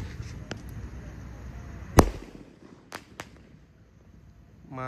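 A 4-inch Bima Sakti firework is lit outdoors at night, giving a sharp loud bang followed by two smaller cracks, against a noisy crackling background, with a voice starting at the very end.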